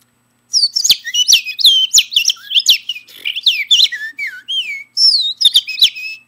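A person whistles an imitation of bird song, rapid chirps, trills and sliding tweets in quick bursts, loud and close with brief pauses between phrases, no talking.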